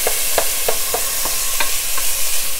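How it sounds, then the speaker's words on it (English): Diced large green pepper fries in a pan of olive oil, with a steady sizzle beneath roughly seven sharp, evenly spaced clicks as a utensil stirs and scrapes the pan, close and fairly loud. "I'm going to add the large green pepper we diced up into that olive oil"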